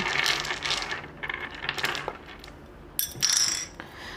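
Small dice tossed for a fortune reading clatter and rattle against a hard surface in a few quick bursts, close and fairly faint, with short pauses between throws and no voices.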